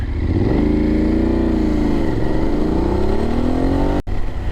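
A BMW GS 850 motorcycle engine drones loudly while riding, its pitch rising and dipping with throttle changes, with a sharp brief break near the end.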